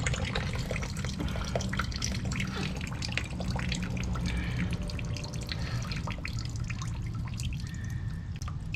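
Coolant draining out of a 1975 VW Rabbit vintage racecar engine into a pan, a steady close trickle and patter of liquid with scattered drips, continuous throughout with no talking.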